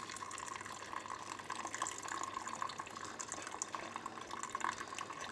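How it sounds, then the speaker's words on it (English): Fresh raspberry water pouring through a strainer to catch pulp, a quiet steady trickle and splash of liquid running continuously with small drips. "we're going to pour our nice fresh raspberry water, look at the colour of that, through a strainer to catch any pulp"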